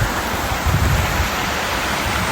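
A waterfall on a river along Scotland's North Coast 500 roars in a steady, dense broadband rush, loud and close, with no voices over it.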